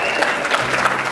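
Award ceremony audience applauding, a dense, even burst of hand clapping that stays loud throughout.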